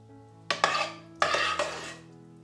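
Pasta with peas, pancetta and Parmesan is stirred in a pan, giving a few quick metallic scrapes and clinks over a quiet background.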